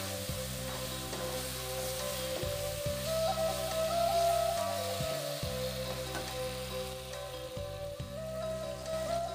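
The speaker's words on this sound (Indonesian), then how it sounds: "Sudah tuh tumihan jo sebentar lado ko sampai harum" Ground chili paste sautés in a pan for gulai kapau with red snapper, giving a steady soft sizzle and crackle close by, with faint scraping from stirring and a low background hum.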